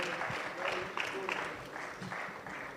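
Audience applause at a closing ceremony of a space expo and conference in Kenya: steady, dense clapping sustained throughout, moderately loud, with some voices mixed in.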